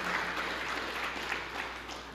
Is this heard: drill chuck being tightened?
no